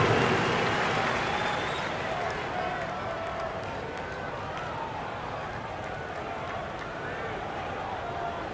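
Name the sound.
crowd clapping for dance crew in NBA 2K27 video game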